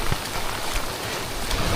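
Heavy rain pelting a small fishing boat at sea, a dense, loud, unbroken hiss of drops drumming on surfaces close by, heard without talk.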